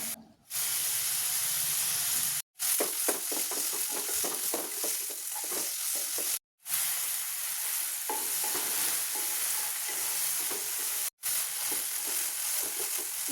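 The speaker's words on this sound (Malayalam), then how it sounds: "ഈ ഒരു ചിക്കന് നമുക്കൊന്ന് ഫ്രൈ ആക്കി എടുക്കാം." Marinated boneless chicken pieces fry in a pan for a crispy snack, giving a loud, close, continuous sizzle with stirring scrapes, broken by three brief total dropouts to silence, and no talking.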